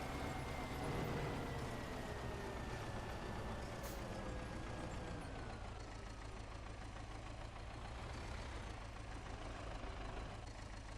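A truck in the Farming Simulator 17 game slows and gears down, its engine a loud, steady drone with a falling whine and a brief hiss of air brakes. Nobody speaks.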